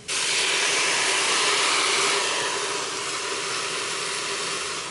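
Mussels, squid and shrimp browning in a Cookeo multicooker on its browning setting give off a loud, steady sizzling hiss that holds constant throughout with no talking.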